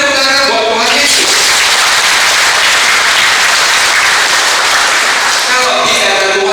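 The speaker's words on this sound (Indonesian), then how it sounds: "Beri tepuk tangan buat Tuhan Yesus." A church congregation bursts into loud, dense applause during a sermon, the clapping swelling and holding strongly before fading as a voice returns at the edges.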